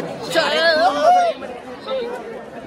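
Crowd chatter fills a packed queue for Ganpati darshan in Pune. Close voices talk over a dense babble of the crowd, and one rising voice stands out near the start.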